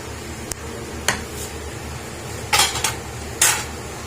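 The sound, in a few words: lifting the lid off a pot of mutton pulao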